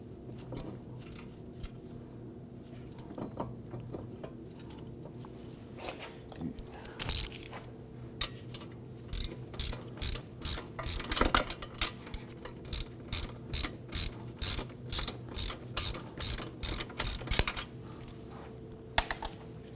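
Ratchet turning a brake caliper bracket bolt on a 2005-2009 Subaru Legacy, quiet at first, then a long run of rapid, regular clicks from the pawl in close, crisp bursts through most of the second half.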